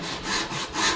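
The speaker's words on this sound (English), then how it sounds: "I'm going to use a panel saw because I've got a half inch thick board here." Panel saw cutting a half-inch-thick wooden board clamped to a workbench, two rhythmic rasping strokes, close and clear, with no voices.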